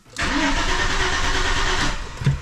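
An Audi A6 automatic engine cranks and catches, then runs loudly at a steady idle, close by, with a brief bump at the end.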